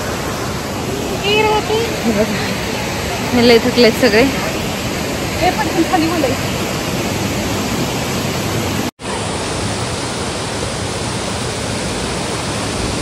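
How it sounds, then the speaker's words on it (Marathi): Rushing water at Devkund waterfall, a broad, steady roar heard from along the trekking trail, with tired hikers talking briefly over it and a short dropout partway. "इथून पाण्याचा आवाज जास्त येते तुम्हाला आवाज येत असेल"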